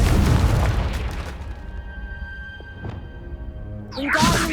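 A deep boom from a Confringo fire spell explosion in Hogwarts Legacy, loud at the start and rumbling away over a few seconds, followed by a brief whooshing burst near the end.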